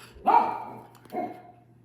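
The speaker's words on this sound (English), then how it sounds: "the doggies are barking" A dog barks twice, a louder bark followed by a shorter one a moment later, heard from a little distance over a low steady hum.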